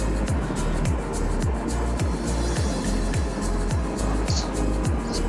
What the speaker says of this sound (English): 200cc bike can really hang on with bigger displacement bikes on this particular road